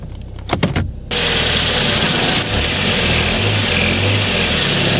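An Opel Agila with an automatic gearbox, put in reverse and revved against its brakes, gives a few mechanical clicks and then a sudden, loud, steady engine roar that holds at a constant level close by.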